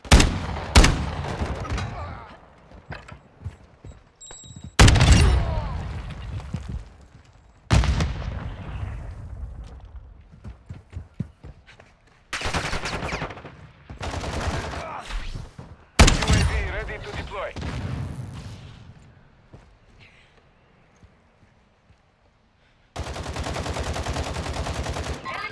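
A KV Broadside shotgun firing slug rounds in a video game, several heavy booming blasts spaced a few seconds apart, each trailing off in a long echoing tail, with a voice talking between shots.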